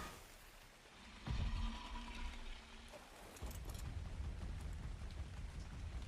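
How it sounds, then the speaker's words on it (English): Steady rain hisses across the landscape in Ark: Survival Ascended on the Ragnarok map, a soft even wash that swells louder and denser partway through and stays heavy to the end. "And it's raining."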